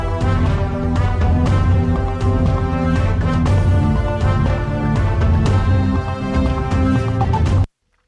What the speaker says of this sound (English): it means that Czechia in 30 minutes will now be getting a new jingle,